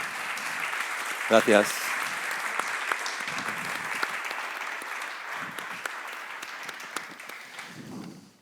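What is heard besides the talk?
strong applause welcoming a writer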